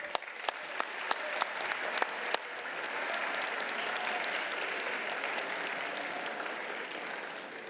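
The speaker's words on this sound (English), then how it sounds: "give a round of applause for the brave students who dared to risk failure at the microphone yesterday" An audience in a hall claps for students at a simulated national convention; a few sharp early claps swell into sustained, even applause that fills the room.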